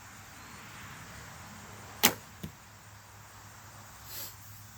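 A bow fitted with a Striker quiver looses a single arrow, a sharp close snap followed by a short twang and a faint thud, over quiet outdoor ambience.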